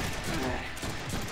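A rapid burst of gunfire rattles in the Deadpool video game, a dense, continuous volley heard up close.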